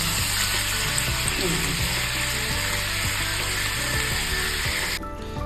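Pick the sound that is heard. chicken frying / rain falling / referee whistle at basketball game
chicken frying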